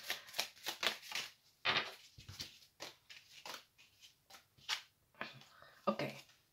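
Tarot cards are shuffled in repeated quick riffles and soft flutters, close by and fairly quiet, with brief pauses between bursts.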